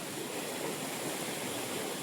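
Water swirling and draining down through a traditional village fishing trap in the monsoon: a soft, continuous rushing wash, fairly quiet and even, with no talking.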